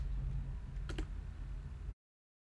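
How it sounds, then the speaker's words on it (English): Password being typed on a computer keyboard, a short burst of a few close key clicks over a faint background hum before the sound cuts to silence. "and then you will type it in once more for confirmation"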